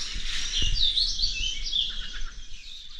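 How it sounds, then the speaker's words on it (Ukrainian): Birds chirp and sing steadily in the distance by a quarry near Bila Tserkva, Ukraine, a bright continuous twittering over a faint low outdoor rumble. "Пташечки співають, жаби квакають."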